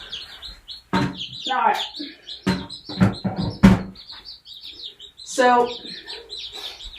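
Young chicks being given Marek's vaccine, a dense stream of high, repeated peeping chirps close by, running under and between bursts of a person talking and handling noises.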